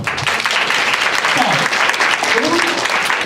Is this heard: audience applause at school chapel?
yes